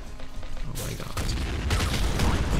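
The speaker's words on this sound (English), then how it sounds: "These explosions," Dense, rumbling explosions and gunfire from the roguelike shooter game Nuclear Throne, with bursts of booming blasts that swell and crackle continuously, growing heavier toward the end.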